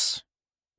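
A single short, sharp cough from a cartoon dragon after tasting his spicy thumb, close and loud, followed by silence and the start of another sound at the very end.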